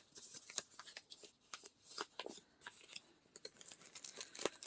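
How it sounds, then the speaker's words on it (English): Packaging from a needle felting kit is folded by hand, making soft, faint crinkles and papery creases in short, irregular bursts close by. "So I think what I want to do is fold this up."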